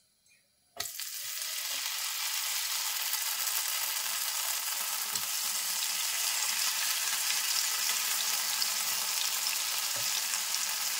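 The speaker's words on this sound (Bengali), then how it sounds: "তেলটা গরম হয়ে গেছে দেখুন। এইবার আমি রেডি করে রাখা পটলগুলো দিয়ে দিচ্ছি।" Slices of pointed gourd (potol) drop into hot oil in a frying pan and set off a sudden loud, dense sizzle that holds steady and close to the end, with a few faint clicks of the pan.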